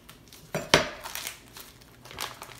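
Plastic packaging around a rack of St. Louis cut Duroc spare ribs is sliced open, giving a short crinkle and a sharp plastic crackle, then softer rustling and a second crinkly burst.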